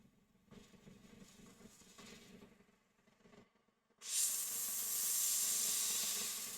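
A Fengda airbrush sprays black paint with a loud, steady, close hiss that starts abruptly and runs on alone after a few quiet handling sounds.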